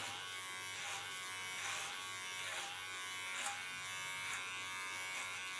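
An electric hair clipper buzzes steadily up close, with brief rhythmic swells as it moves through thick, strong hair, alone without talking.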